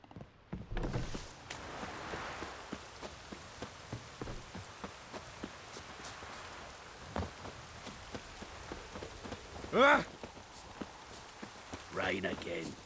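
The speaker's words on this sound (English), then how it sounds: "Rain again." Steady rain falling in the Witcher 3 video game, a soft continuous patter under regular footsteps, with a brief louder sound and voices near the end.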